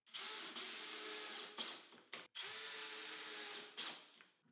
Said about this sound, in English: I drilled another hole to insert the dowel and strengthen the bond.